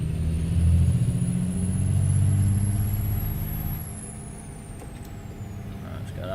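Heavy diesel truck engine in American Truck Simulator, droning loud and low with the cab window open, its rumble rising and easing as it shifts, with a faint whine high above.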